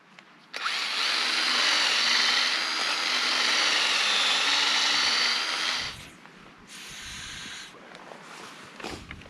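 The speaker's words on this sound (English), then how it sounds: "now I'm ready to put my tap into the tree and drill out there" A power drill bores into a maple tree to set a sap tap, whining loudly for several seconds before stopping, followed by quieter scraping and a short burst of drilling as the tap is seated.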